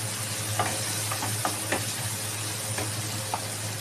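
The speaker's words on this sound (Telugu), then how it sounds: "కలిపిద్దాం కలిపిద్దాం ఒక్కసారి కలిపిద్దాం" Fried tamarind-leaf mixture being stirred in a pan, with scattered spoon scrapes and knocks over a steady close sizzle and low cooking hum, no talk.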